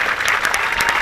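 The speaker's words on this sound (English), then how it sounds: "Could we have a huge round of applause for all those who have served this great nation" An outdoor Memorial Day ceremony crowd at a veterans cemetery claps for those who served, a brief, dense burst of applause with sharp individual claps standing out.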